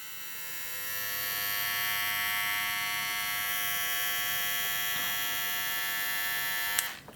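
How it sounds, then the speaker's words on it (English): A SuprentPRO electric hair trimmer runs with a steady, close buzzing hum that holds for several seconds before a brief clack near the end. "Quiet trimmer."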